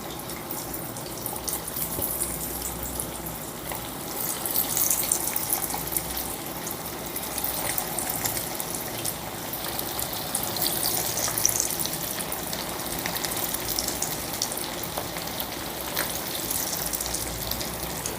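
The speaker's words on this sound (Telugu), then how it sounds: "ఇప్పుడు పకోడీ వేసుకుందాం. ఒక ముక్క వేసి చూపిస్తాను, చూసారా? అలా ఉండాలి వేడి." Street-style chicken pakoda pieces fry in hot oil in a wide kadai over a medium flame, giving a steady, dense sizzle close by that continues unbroken throughout.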